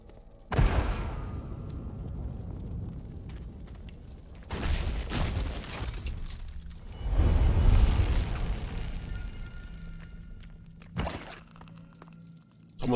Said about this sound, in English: Rats. Looks like they explode poison.